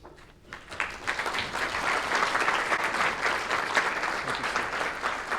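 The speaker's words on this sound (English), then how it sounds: "And a round of applause for Father Andrew." An audience at a school dinner auction claps warmly, the applause swelling after a quiet start and continuing steadily throughout.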